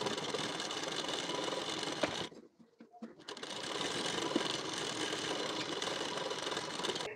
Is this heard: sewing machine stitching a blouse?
yes